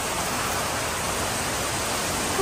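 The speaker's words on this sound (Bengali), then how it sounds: "কি জোরে বৃষ্টি হচ্ছে" Heavy rain pours down steadily in a sudden sunny-weather storm, a dense, continuous hiss that stays loud and even throughout with no voices.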